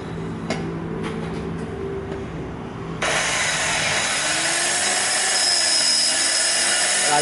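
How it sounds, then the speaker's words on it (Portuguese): In an engine-rebuilding shop, a drill boring out an oil gallery in an engine block starts with scattered clanks and a low hum, then breaks into a loud, steady grinding whine that holds for the rest of the clip. "agora ele vai colocar a broca para abrir essa galeria aqui"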